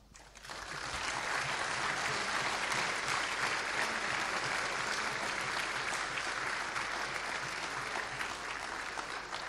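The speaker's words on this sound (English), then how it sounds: "get your round of applause directly in person" Conference audience at the FOSDEM 2020 closing session applauds the volunteers, a dense, steady wash of clapping that swells in quickly and holds loud and even for several seconds.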